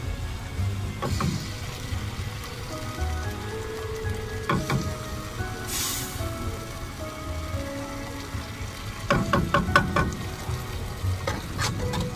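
Spaghetti ingredients with soy sauce and ketchup being stirred and fried over low heat, a soft continuous sizzle broken by scraping strokes of the spoon, with a denser clatter of stirring near the end.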